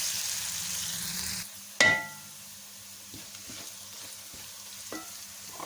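Ground garlic and ginger frying in a pan with chopped onion, a soft steady sizzle broken by a sharp clink of a utensil and light stirring scrapes, close and without talk.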